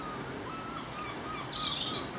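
Birds chirp in the background over the steady hiss of heavy rain beside a garden pond being relined, with a brighter burst of song near the end.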